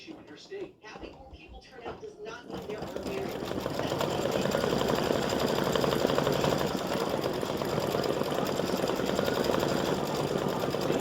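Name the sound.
embroidery sewing machine stitching flip flop straps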